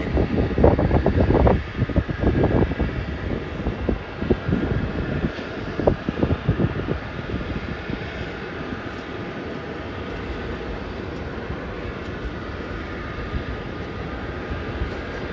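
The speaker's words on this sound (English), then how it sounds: "the next flight to land is a flight from Devonport in Tasmania, and that's a Rex 340" A Rex Saab 340, a small twin-turboprop, lands on the south runway at Melbourne Airport, with a broad steady rumble of engine and rolling noise throughout and sharper thumps and bursts early on.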